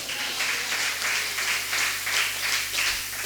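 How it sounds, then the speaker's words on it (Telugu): A church congregation at a Telugu Christian sermon claps in a steady rhythmic beat, many hands striking together in even pulses that fill the room without any talking. "చప్పట్లు కొడుతూ హల్లెలూయా చెప్దాం"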